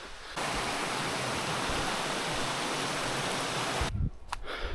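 A waterfall on a hiking trail in Springbrook National Park roars as a dense, steady rush of falling water that starts abruptly and cuts off just as abruptly near the end, leaving a few faint knocks.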